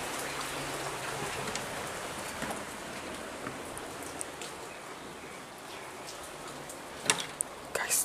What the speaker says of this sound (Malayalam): ഇപ്പോൾ പുറത്ത് നല്ല മഴയും പെയ്തിട്ടുണ്ട്.